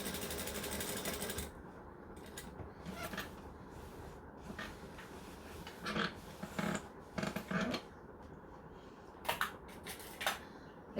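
A domestic sewing machine stitches a denim jacket in a fast whirring run at the start, then pauses. Several short bursts of stitching and handling clatter follow, all close.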